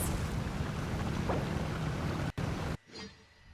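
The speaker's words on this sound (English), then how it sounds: "Rev the engines!" Boat engines in the video game Genshin Impact, a steady loud broadband roar with wind-like rush and water spray, running alone for under three seconds before cutting to a quieter low rumble.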